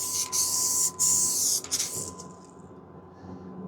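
Hissing bursts from a used aerosol can of spray paint used for prepping an RV wall, loud and close, with two short pauses before the spray sputters and fades out as the clogged nozzle gives way.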